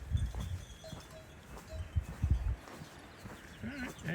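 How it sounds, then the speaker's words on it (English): Sheep, a ewe and lamb among them, graze along the Camino Francés trail between El Acebo and Villafranca, giving a few short bleats and rustles nearby over quiet outdoor ambience. "A couple sheep along."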